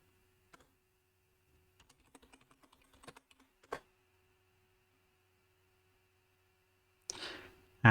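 Computer keyboard typing a terminal install command: a short run of quiet, irregular key taps, a louder keystroke, then a pause and a final cluster of clicks, close and alone.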